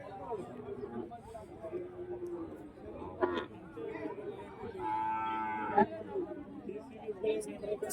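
At a Sunday cattle market, cows and young calves moo, one drawn-out call standing out near the middle, amid the steady chatter and hubbub of a crowd and nearby speech.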